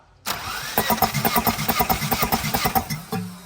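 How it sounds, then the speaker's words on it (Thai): A Tata truck engine that stalls while running and starts weakly cranks steadily during a compression test, a loud, even run of rapid rhythmic pulses beginning abruptly and lasting about three seconds, with no speech. "อ่ามาสตาร์ทเครื่องดู สูบที่หนึ่งนะ วัดกำลังอัด"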